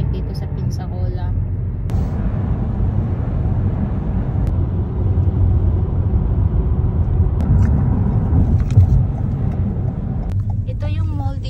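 Car interior in heavy traffic in Pensacola, a low steady road and engine rumble running throughout, with people talking over it.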